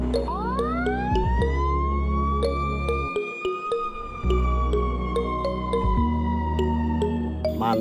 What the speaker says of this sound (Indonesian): Wow, mobil ambulan.